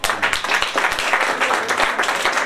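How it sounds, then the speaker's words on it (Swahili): A church congregation at a preacher's service breaks into dense, continuous clapping, a lively crowd applause that holds steady throughout. "Yeye Yesu makofi."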